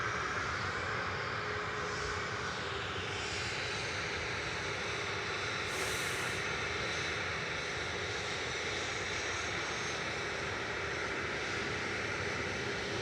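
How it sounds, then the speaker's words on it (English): An Airbus A319 departing Manchester Airport, a broad steady engine roar heard from a distance, continuous and fairly faint against outdoor ambience, with no talk. "A319, heading off next, OO SSV, 21 years old, this aircraft, with flight 2184, back over to the Belgian capital."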